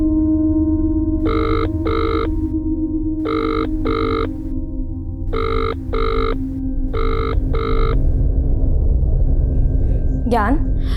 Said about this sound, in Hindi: ज्ञान, अगर तुम मेरा फोन नहीं उठा सकते